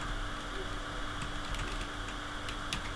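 Keys tapped on a computer keyboard while a web address is entered, a few sparse, light clicks spread over a steady background hum, fairly quiet and with no voices.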